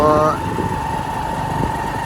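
A motorcycle ridden on a road in hot weather hums with a steady engine drone and wind rumble, while someone talks over it.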